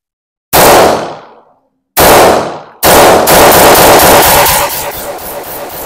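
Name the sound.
pistol gunfire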